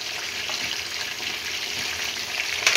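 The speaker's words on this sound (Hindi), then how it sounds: "ये देखें फ्रेंड्स, ये हमारा चिकन फ्राई हो रहा है" Chicken pieces fry in oil with a steady, fairly quiet sizzle that holds level, with a slightly louder crackle near the end.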